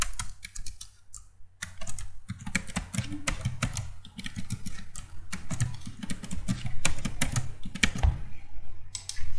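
Keys clatter on a computer keyboard as a password is typed, in quick irregular bursts of close, crisp clicks with short pauses between them, steady and fairly loud, with no talking.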